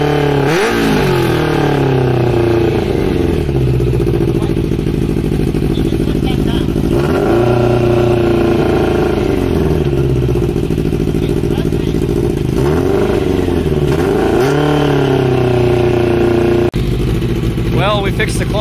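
Honda CBR1000 Hurricane motorcycle engine runs loud and close, revving up and dropping back in repeated swells over a steady idle, with a person talking over it.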